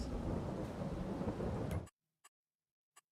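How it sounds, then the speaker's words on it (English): Heavy rain and a rumbling thunderstorm roar steadily in the farming game Farming Simulator 22, then cut off abruptly, leaving two brief faint clicks in near silence. "I'm waiting for this rain to end"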